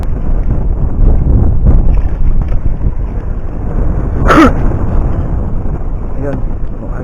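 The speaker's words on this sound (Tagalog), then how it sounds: "sobrang lakas ng hangin." Strong, steady wind roars across the microphone on a small fishing boat at sea during a cold northeast monsoon, buffeting continuously throughout with a brief louder gust burst midway.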